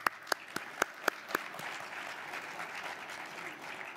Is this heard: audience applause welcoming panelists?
yes